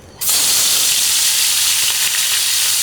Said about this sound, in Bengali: চিংড়িটা ভেজে নিচ্ছি